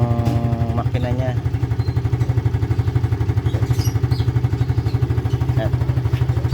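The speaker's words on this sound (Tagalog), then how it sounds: "naririnig nyo naman ano, tunog ng makina nya." A Yamaha Mio Sporty scooter engine idles close by after maintenance, a steady rapid mechanical putter with loud, even pulses and a light clatter throughout.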